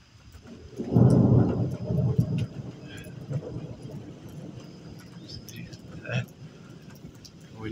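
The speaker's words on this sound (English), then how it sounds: "When you hear thunder first, that means lightning's following." Thunder from an electrical storm rolls in as a deep, loud rumble, then fades into a low background murmur with faint rain and scattered small noises.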